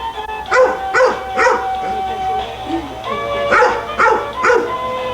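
A dog barks repeatedly in short bursts of two or three yips, fairly close, over a steady background hum.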